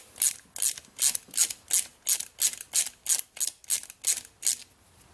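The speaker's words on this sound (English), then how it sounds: "A 7/32 socket fits right on there, and you can just turn right out." A 7/32 socket on a ratchet backs a stud out of a 1993 Ford Ranger 4x4, giving about thirteen even, crisp clicking bursts in a steady rhythm, close and clear with no talk.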